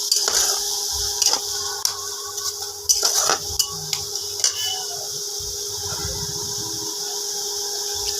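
Ginger, garlic and chili paste stirred in a pan, with a spoon scraping and clinking against metal in irregular strokes over a soft steady sizzle, close by and without talk.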